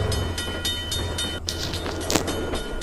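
A train rolls past near a village railway station, rhythmic clicks of wheels over rail joints heard at a moderate distance, followed by a burst of rushing, clattering noise as the cars go by.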